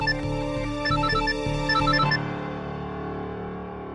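A phone ringtone plays a bright, repeating electronic melody for an incoming call in a Hindi TV serial, sounding loud and clear for about two seconds before it stops, leaving a low hum.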